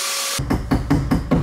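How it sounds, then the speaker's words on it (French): Angle grinder flattening a weld on sheet metal during a 306 Break camper build, a steady broadband whine broken by four or five rhythmic pulses as the disc bites and lifts. "je vais meuler à plat là pour que ça soit un peu plus propre"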